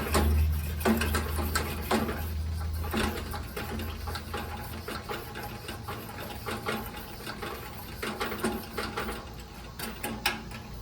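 A Coleman 425E gas camp stove has its fuel tank pumped by hand, making a steady, rhythmic mechanical chugging and clicking over a constant low hum, close and fairly loud throughout.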